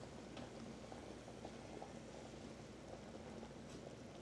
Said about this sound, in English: Boil that rice